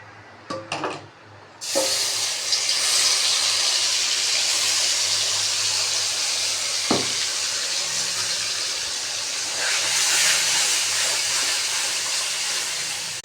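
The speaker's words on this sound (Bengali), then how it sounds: "এটা কষানো হচ্ছে" Ginger, garlic and onion paste with chilli sizzles in a little oil in a kadai for a mutton curry, a loud, steady hiss close by after a few brief knocks at the start.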